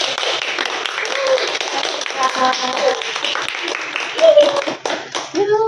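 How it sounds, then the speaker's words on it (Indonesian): Applause breaks out at the close of a podcast session, a patter of clapping hands mixed with voices talking over it, fairly close and steady for several seconds. "Aplaus sekali lagi"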